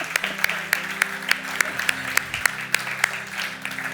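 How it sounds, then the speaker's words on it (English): A church congregation clapping in a rhythmic, steady beat, with regular sharp claps over a sustained low musical hum and crowd murmur, lively and moderately loud. "Yeah, we can clap"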